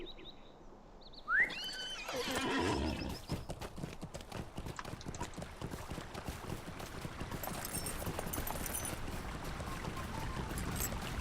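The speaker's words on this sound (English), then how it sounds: "So go ahead and get on my horse and check it out." Horse hooves clip-clop steadily in the Lord of the Rings Online video game after a rising whinny-like call near the start, continuing as a rhythmic trot over an ambient background.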